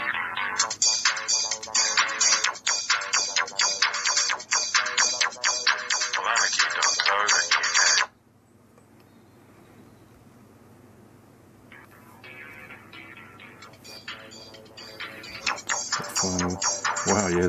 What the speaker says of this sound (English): the Moto G is one of the loudest speakers on any phone